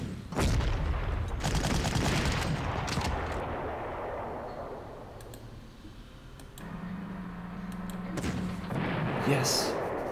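Booming bombing blasts from a World War II strategy game, a deep rumbling explosion that slowly fades and then another heavy burst later, with someone talking briefly in between.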